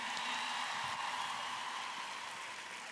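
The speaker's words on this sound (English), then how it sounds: "give another round of applause for Craig Daigle." Sustained applause from a large crowd at a corporate summit opening ceremony, a steady dense wash of clapping that holds level throughout without pause.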